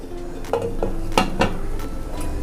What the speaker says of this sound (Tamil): ஸ்டாண்ட் வச்சு அதுக்கு மேலே இந்த டிஃபன் பாக்ஸை நம்ம வைக்க போகிறோம். வச்சுட்டு நம்ம க்ளோஸ் பண்ணிடலாம்.